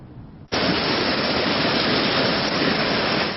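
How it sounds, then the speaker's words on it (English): Mud roaring down a mountain after a storm in Ramona's San Diego Country Estates, a loud, dense, river-like rushing that bursts in abruptly and holds steady without pause. "that's mud roaring down a mountain into San Diego Country Estates in Ramona on Sunday"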